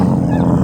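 Dog with a litter of puppies, a close, loud, low growling rumble held for under a second with no talk over it.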